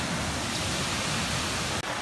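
Steady broadband roar of a waterfall on a nature hike, loud and continuous with no break apart from one brief dip near the end.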